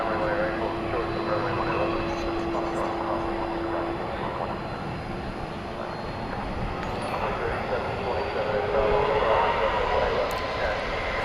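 An American Airlines airliner from Denver lands at DFW Airport at night, heard as a steady, far-off jet engine roar that swells slightly toward the end, with faint voices in the background.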